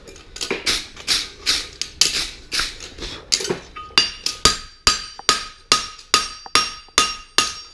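A hammer strikes a straight bar horseshoe with a lateral extension during boxing of its thin sections, in a steady run of sharp metallic blows at close range with ringing overtones, alone.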